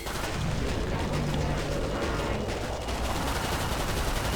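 Dense, continuous gunfire in the video game Killing Floor 2, rapid overlapping shots and blasts forming a loud barrage that never lets up.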